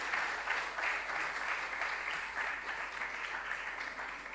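An audience at a regional junior science and maths quiz applauds the contestants with a steady, even wash of clapping that holds for a few seconds at moderate level.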